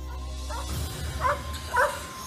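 A dog gives two short yipping barks about half a second apart, fairly faint over a steady background hiss.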